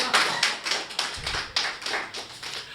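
An audience claps in unison at a Hindi kavi sammelan poetry recital, a steady rhythmic beat of about four claps per second, fairly close and loud with no talk.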